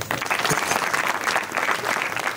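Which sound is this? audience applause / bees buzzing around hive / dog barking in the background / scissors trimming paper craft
audience applause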